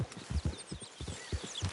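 Hooves of a horse clip-clopping in the video game Red Dead Redemption 2, a steady walking rhythm of close, thudding steps heading toward town.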